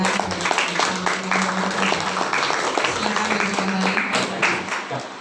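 Audience applause at a village head candidates' vision-and-mission event in Banua Kepayang, a steady crowd clapping with a low hum beneath, continuing for several seconds and tapering at the end.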